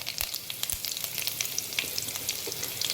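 Curry leaves hit hot oil for a banana flower stir-fry, setting off a dense, close crackling sizzle with scattered sharp pops throughout and no voices.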